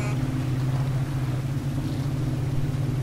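The 375 truck in the SpinTires video game idles with a steady low droning engine hum, continuous and moderately loud, with no talk over it.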